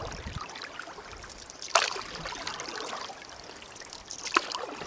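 Rapids on the Kipawa River make a steady, moderately distant rush of moving water, with a couple of brief, sharper splashes standing out.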